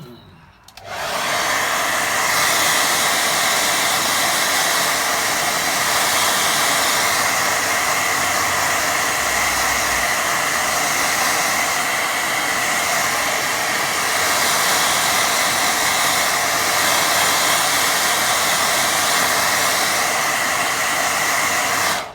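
A hair dryer roars steadily and close for the whole stretch as it dries a country path watercolour painting, switching on at the start and running without a break.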